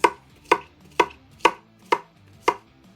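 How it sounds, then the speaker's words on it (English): A knife chops peppers on a board in six evenly spaced, crisp strikes about half a second apart, close and clear, with no talking. "So chop, chop, chop."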